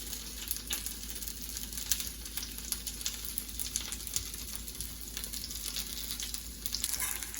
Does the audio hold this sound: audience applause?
no